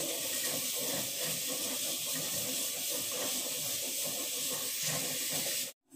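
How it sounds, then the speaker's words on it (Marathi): A steady, loud hissing of steam rushing out continuously as a pressure cooker whistles while cooking green peas, cutting off abruptly at the end. "बघा, आपल्या इथे शिट्या होत आहेत।"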